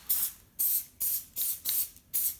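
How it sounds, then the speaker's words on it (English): Spray adhesive is misted onto a ski boot and foil insulation in six short, close hissing bursts, each followed by a brief pause in an even rhythm. "a little bit of spray. A little bit on the boot, a little bit on the foil."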